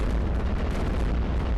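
Cannon fire in the tower-defense game iBomber Defense, a dense, continuous rumble of booming blasts layered over one another, loud and steady throughout with no talking.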